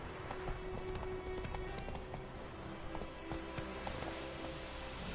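A horse gallops in The Witcher 3, its rapid rhythmic hoofbeats running continuously over a dense game soundscape, fairly close and steady throughout.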